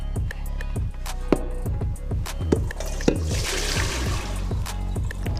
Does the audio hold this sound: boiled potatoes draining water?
yes